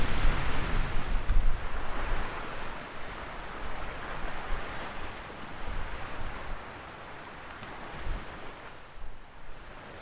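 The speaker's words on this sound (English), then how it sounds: "As you can hear the sound of the waves in the background" Lake waves lapping at the shore beside a campsite tent, a continuous close wash of water with gentle surging swells and some wind, steady and without speech.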